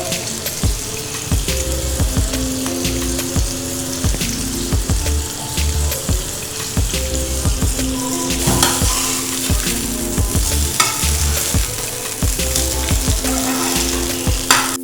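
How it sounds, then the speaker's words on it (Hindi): Lahori chapli kababs frying on low heat, with a steady dense sizzle and crackle of oil throughout, close and fairly loud, broken by occasional clinks and scrapes of a utensil. "गोल्डन होने तक हल्की आंच पे फ्राई करेंगे।"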